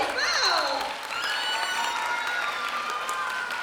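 Audience at a cosplay contest applauding, a steady wash of clapping with cheers and voices mixed in, fairly close and loud throughout.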